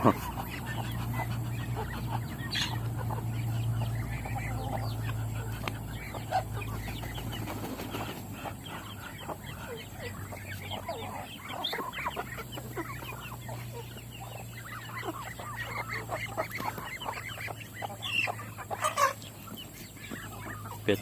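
Free-range ducks and chickens on a small Lao home garden farm call and cluck continuously at moderate distance, with occasional louder squawks over a steady low outdoor background; no talk.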